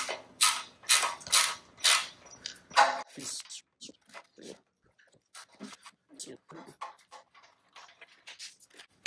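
A socket wrench on an extension ratchets loose a long 27 mm exhaust screw on a Harley-Davidson Sportster S, with a run of loud clicking bursts at first, then sparser, quieter clicks and creaks.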